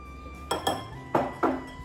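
A metal spoon knocks and clinks against a bowl while scooping gram flour (besan) for a face pack, four distinct, fairly close taps in two pairs over a faint background hum.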